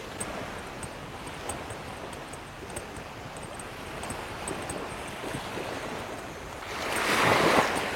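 Surf washes onto a beach at Tup Kaek in Krabi, Thailand, with a steady broad roar of breaking waves and some wind, swelling louder toward the end as a bigger wave rolls in.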